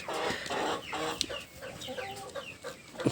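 Chickens on a poultry farm cluck and chatter in an irregular, overlapping flock, fairly faint and close, with a sharp squawk now and then.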